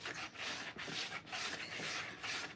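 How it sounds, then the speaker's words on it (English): Paper is rubbed firmly onto the cover of a hardcover journal, giving repeated back-and-forth scrubbing strokes in a steady rhythm, close and moderately loud, with brief pauses between strokes. "Rub it real good."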